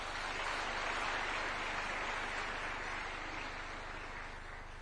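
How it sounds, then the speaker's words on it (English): A large crowd applauds at a State House award ceremony in Nairobi, dense sustained clapping that holds steady and then slowly tapers. "One more round of applause for the chair."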